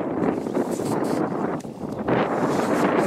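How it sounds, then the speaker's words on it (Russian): Wind gusts buffet the microphone out on open water, a rough steady rumble with a brief lull midway before picking up again, close and loud with no talk. "Ветер."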